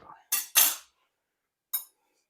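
A knife cuts through a dense roast pumpkin in three crisp, close strokes, two quick ones together and a softer one after a pause, with quiet surroundings.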